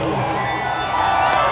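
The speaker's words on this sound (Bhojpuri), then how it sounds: "चारों तरफ से एक बार रमेश भैया के नाम पे जोरदार ताली हो जाए" A large crowd at a live Bhojpuri stage show in Ranchi claps and cheers in a loud, dense, continuous roar that holds steady throughout, with scattered shouts rising out of the wash of applause.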